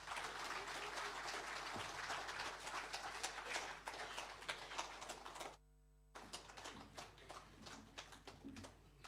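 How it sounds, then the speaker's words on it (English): Scattered audience applause at a People's National Congress party event, a rough spread of claps that thins out, breaks off briefly and then resumes at a lower level. "One more round of applause."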